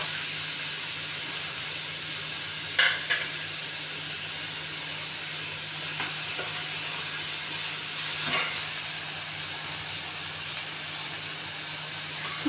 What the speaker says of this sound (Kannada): ಗ್ಯಾಸ್ ಸಣ್ಣದಾಗಿದೆ, ನಿಧಾನವಾಗಿ ಬಾಡಿಸ್ಕೊಬೇಕು.